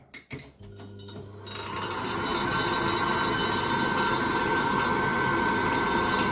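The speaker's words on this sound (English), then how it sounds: "So we'll just give some power to this fan now." A Baxi boiler's fan, fitted to a unit with a faulty fan and air pressure switch, is switched on: a few clicks, then a rising whir that settles into a steady, close mechanical hum with a faint rattle.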